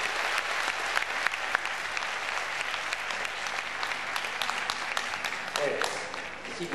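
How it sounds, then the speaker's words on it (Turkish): A concert crowd at a Turkish classical music choir performance claps steadily and densely, sustained applause with some sharper individual claps, and a voice briefly audible near the end. "Eğer alkışları biraz kuvvetli tutarsak, belki bir şarkıda okuruz"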